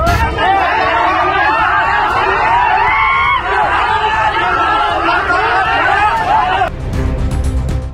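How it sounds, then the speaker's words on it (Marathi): Large crowd of villagers gathered at a house, a dense, loud babble of many overlapping voices with shouts and whoops, continuous until it drops off near the end into quieter noise. "संपूर्ण गावातील ग्रामस्थांनी मोठी गर्दी केली"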